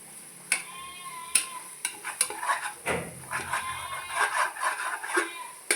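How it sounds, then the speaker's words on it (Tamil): Mint and coriander sautéing in a pot for chicken biryani: a steady sizzle with repeated spoon scrapes and metal clinks against the vessel, stirred close by, while a voice talks intermittently over the cooking. "புதினா கொத்தமல்லி நல்லாவே வதங்கிருச்சு."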